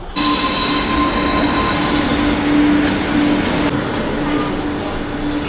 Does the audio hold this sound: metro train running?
yes